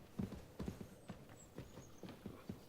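Horse hooves clip-clop at a steady walking rhythm in the medieval video game Kingdom Come: Deliverance 2, moderately close with soft ambient background and no talk.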